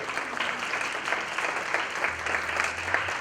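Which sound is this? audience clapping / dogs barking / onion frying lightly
audience clapping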